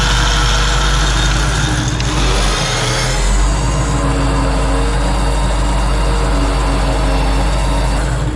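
A Toyota 4Runner engine runs steadily and loud during a flooded-wash recovery near Needle Rock, a constant low rumble with a brief shift in tone as it is put into drive.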